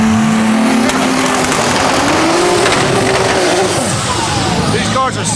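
Nissan GT-R race cars roar at the TX2K drag racing event, a loud engine note sweeping upward through the gears as one car launches and pulls away, with crowd noise and voices mixed into the din.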